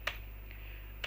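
Two faint, sharp keystrokes on a computer keyboard while writing Android app code, one at the start and one at the end, over a low steady hum.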